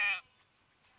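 A single short sheep bleat in an online wolf video game, clear and close at the start, then fading to near silence.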